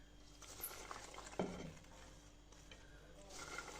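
Chopped green beans tip into a pot over tomatoes and onions, followed by a single scraping stir and faint rustling from the pan.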